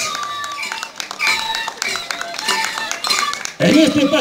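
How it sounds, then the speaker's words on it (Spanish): Crowd applause rises at the Carnaval Pateño 2016 street parade in Santo Tomás de Pata, scattered claps mixing with a steady announcer's voice over a loudspeaker before a louder burst near the end. "Ese fuerte voto de aplausos."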